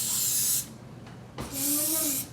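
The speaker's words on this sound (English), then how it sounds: "We spray it down a little bit with the non-stick spray" Non-stick cooking spray hisses onto aluminum foil in two short bursts, each a close, bright spray lasting under a second with a pause between.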